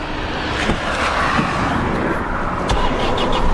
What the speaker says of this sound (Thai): นี่ครับเครื่องยนต์สตาร์ทติดได้ง่ายนะครับ